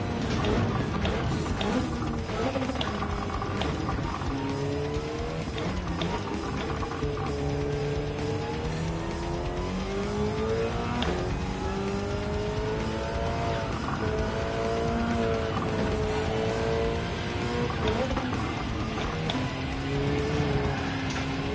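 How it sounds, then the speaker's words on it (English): Race car in a sim racing video game sliding over a curb, heard as a continuous engine roar with rising and falling pitch, layered with tire scrubbing and rumble, steady and fairly loud throughout. "That was just a bit of curb sliding."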